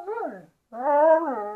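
A dog whimpers and whines for pizza in two drawn-out, high, pleading bursts separated by a brief pause, close and fairly loud.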